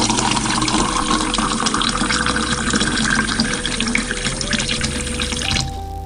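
Tap water pours steadily and loudly into a graduated cylinder for several seconds, its pitch rising as the cylinder fills, then cuts off abruptly near the end.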